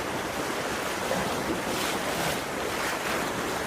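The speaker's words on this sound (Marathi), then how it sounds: "यहाँ पानी बहुत जोर से खींच रहा है" Floodwater of a swollen village river in the monsoon rushes past in a steady, loud, broadband roar, with gusts of wind buffeting the microphone.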